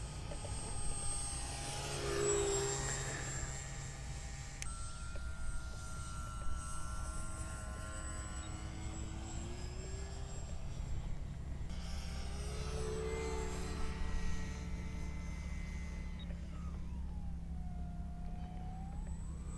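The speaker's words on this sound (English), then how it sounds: "This is flight number 2 of the Dynam T-28 Trojan." A Dynam T-28 Trojan RC plane drones steadily overhead, its engine whine rising and falling in pitch as it passes at a distance, continuous and fairly faint with no talk.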